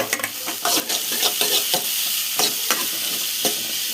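Handful of shredded cabbage tossed into a pan of lightly cooked small onions and stirred, steady frying sizzle with repeated scraping strokes of a spatula, close and fairly loud, no voices.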